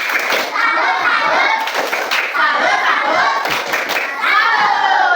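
A primary-school class of children claps a rhythmic chanted cheer in a classroom, hands beating in quick patterned bursts while young voices shout along loudly throughout.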